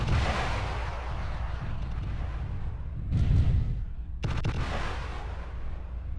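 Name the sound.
missiles firing in the video game MechWarrior Living Legends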